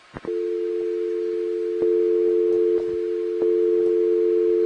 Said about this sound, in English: We're getting the dial tone over the loud audio here.